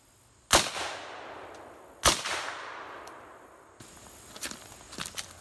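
Pistol shots at a shooting range target 10 yards away: two loud, sharp reports about a second and a half apart, each with a ringing decay, followed by quieter clinks and handling sounds.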